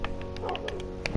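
A pet dog in the Minecraft video game gives a few short yips and barks, close and moderately loud over a steady game background hum.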